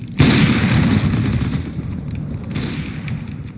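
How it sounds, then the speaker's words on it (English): A grenade detonates in Counter-Strike on the Train map, a sudden loud boom that rolls into a long rumbling decay with scattered distant gunfire behind it. "Throwing grenade."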